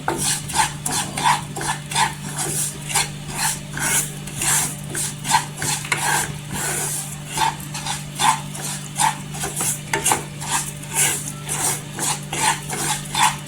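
Varai (barnyard millet) is roasted in ghee over a low flame and stirred with a steady rhythmic scraping and rasping, repeating close up about once a second over a constant low hum.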